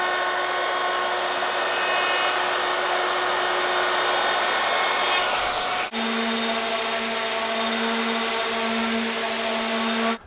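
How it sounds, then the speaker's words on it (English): A router fitted with a quarter-inch round-over bit shapes the edge of a wooden tabletop, giving a loud, continuous high whine throughout whose pitch shifts partway as the cut changes, with no talking. "I've got that bit chucked up in my router, and I'm going to do the bottom first"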